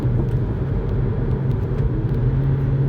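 An Audi A3 engine hums and rumbles steadily from inside the cabin during a manual downshift, a low, even drone with no distinct rev spike.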